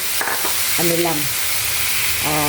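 Unbreaded, salted chicken pieces fry in a pan with barely a spoonful of oil, giving a steady close sizzle and crackle, with a few faint tonal sounds in the background.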